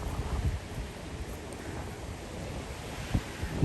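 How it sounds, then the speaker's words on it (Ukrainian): Wind gusts across a lake in Canada on a cold spring day, buffeting the microphone with rough, uneven rumbling while small waves wash faintly underneath. "Ну, на озері вітер дує, бачите?"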